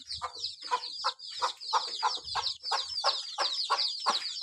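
Country chickens cluck and chicks peep in a busy, continuous chorus of repeated calls on a farm, close and fairly loud, with no talking.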